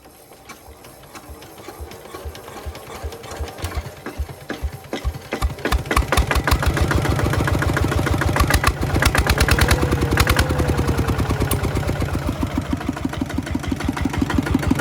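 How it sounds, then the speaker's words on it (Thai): A walking tractor's engine cranks and starts, then runs with a loud, rapid chugging exhaust from an aftermarket pipe. The even firing pulses grow steadily louder and keep going to the end with no talk. "เรามาทำการสตาร์ทเครื่องอีกที"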